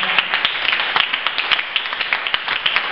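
Church congregation clapping and cheering during a service, a dense continuous wash of applause with scattered sharp individual claps, moderately loud and steady throughout.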